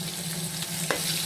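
Mustard seeds and fenugreek sizzle in hot oil for a rasam tempering, giving a close, steady frying hiss with a couple of small pops and crackles near the end.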